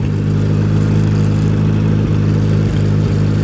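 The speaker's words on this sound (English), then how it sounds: "gonna shut the PTO off here." An Allis-Chalmers C tractor idles with its PTO engaged, a loud, steady mid-pitched engine chug with light mechanical clatter and a few brief dips near the end.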